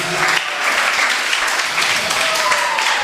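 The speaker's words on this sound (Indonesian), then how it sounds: "Tepuk tangan untuk pemateri kita pada kali ini." Dense, steady applause from a leadership seminar audience, many hands clapping at once in a loud, continuous wash with no pauses.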